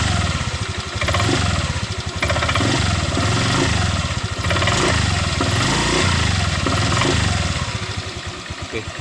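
Honda Vario 125 LED scooter engine running steadily at close range, a continuous rough mid-pitched drone with clattery vibration from a CVT said to sound harsh and lack power in the mid range.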